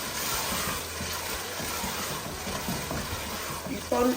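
Nigerian Ofada sauce (Ayamase stew) being stirred as it cooks in a pot, with a constant close sizzle and soft scraping from the stirring throughout.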